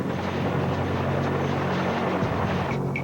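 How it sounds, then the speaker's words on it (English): A firefighting helicopter dropping lake water on a fire, its continuous rotor drone steady and prominent, with a brief shift in pitch near the end. "Specially rigged helicopters drop lake water on the fire."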